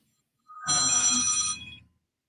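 A phone ringtone sounds once at close range, a bright electronic trill lasting just over a second before it stops, with no talking over it.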